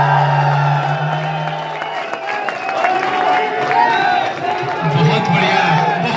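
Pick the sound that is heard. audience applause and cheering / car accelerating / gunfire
audience applause and cheering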